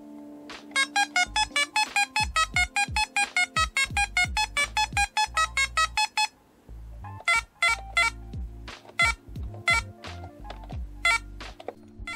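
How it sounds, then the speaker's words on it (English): A Pac-Man-style VFD handheld game plays rapid, regular electronic beeps in quick pulsing runs, then a pause and a sparser, irregular set of bleeps, loud and close with no talk. "we have an array of beeping sound effects to warm the soul whilst eroding the ears"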